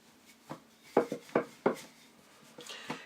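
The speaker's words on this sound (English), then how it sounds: "we just press gently down on that dough, and then now we roll" A rolling pin works dough for Guyanese fried bakes on a floured surface, giving a few soft close-up knocks and rubbing rolls spaced unevenly across a quiet background.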